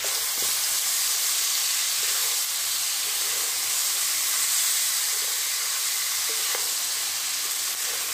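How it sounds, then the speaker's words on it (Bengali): Soaked, drained rice stirred and fried in a pot of chicken biryani, giving a steady, moderately loud hiss and sizzle throughout with a few faint scrapes, no talking. "এবার ভিজিয়ে রাখা ছেঁকে রাখা চালটা দিয়ে একটুখানি নেড়ে চেড়ে নেব"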